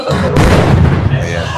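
A single loud boom bursts out and decays into a rumbling wash of noise, short and close.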